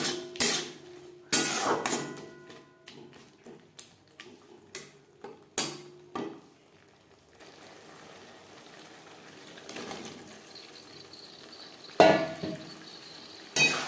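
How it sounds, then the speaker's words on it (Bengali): Boiled potatoes are stirred into a frying spice paste cooked in little oil for a fish-head curry, with a spoon scraping and clinking against the pan in uneven bursts before the stirring quiets into a faint sizzle. "মশলার সাথে আলু বেশ ভালো করে মিক্সড করে দেবো"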